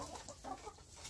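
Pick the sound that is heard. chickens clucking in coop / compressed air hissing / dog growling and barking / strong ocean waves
chickens clucking in coop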